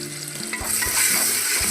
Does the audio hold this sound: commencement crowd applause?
no